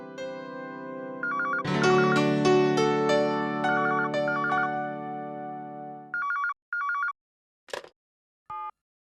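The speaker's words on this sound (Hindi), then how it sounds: "बजने दो। किसी का जरूरी फोन होगा।" A melodic phone ringtone plays loudly and alone with sustained tonal chords for about six seconds, then gives way to a few short separate electronic tones and chirps.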